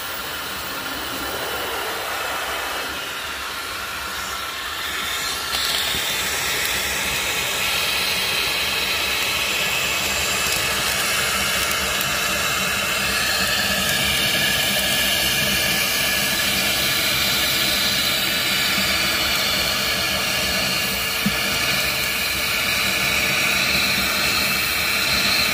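Filter Queen Majestic vacuum cleaner running on low suction, a loud steady airy roar and hiss that starts a little lower, then settles into a constant whine for about twenty-five seconds with no talking.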